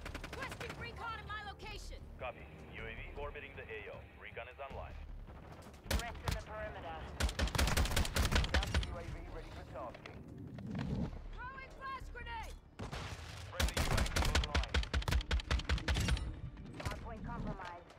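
Call of Duty MW2 gunfire and explosions, including an RPG, crack and boom in repeated loud bursts between stretches of game voice chatter and spoken commentary.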